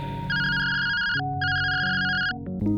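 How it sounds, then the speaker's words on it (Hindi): A telephone ringtone plays alone with no talk, a loud melodic electronic tune of repeating bright tones that shifts pitch midway through its short run. "लेकिन तभी उसके मालिक का फोन आ जाता है।"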